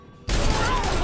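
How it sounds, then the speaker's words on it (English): Gunshot fired by a guard in the stealth game Hitman: Blood Money, a sudden loud blast erupting out of quiet and ringing on as a dense, sustained burst of noise. "disarming an armed guard carries the chance of them firing off a shot"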